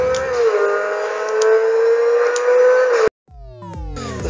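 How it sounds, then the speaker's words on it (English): A Grotti Turismo-R supercar in GTA 5 accelerates hard, its engine holding a loud rising drone before cutting off abruptly, followed by sharp rising gear-shift sweeps as it climbs again. "Let's see how fast this Grotti Turismo-R can go."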